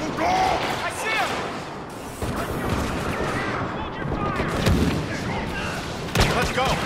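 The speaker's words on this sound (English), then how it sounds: "Blaster fire kind of hurts, huh?" Blaster fire in a Star Wars Battlefront game sounds as rapid, overlapping shots and bursts of battle noise that run steadily throughout, with shouted voices mixed into the fighting.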